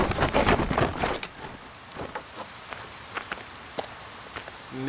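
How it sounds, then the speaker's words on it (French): Steady rain patters on surfaces with scattered louder drops and splashes, a dense, even hiss throughout, nearby and fairly loud at first, then settling into a constant shower. "crois-tu que j'ai peur de 3 gouttes de pluie?"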